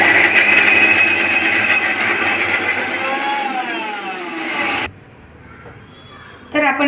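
A kitchen mixer grinder whirs loudly at high speed as it blends carrot, beetroot and guava into juice, its pitch sliding gradually. It cuts off abruptly into near silence, then briefly starts again at the end.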